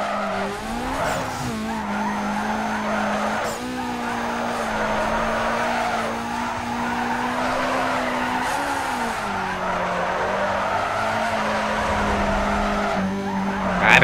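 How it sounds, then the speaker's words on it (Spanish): An Audi slides sideways in Need for Speed Underground 2, its tires squealing in a long, sustained wail over a steady droning engine note that bends slightly as the drift continues, loud and unbroken. "¡Qué bien derrapa!"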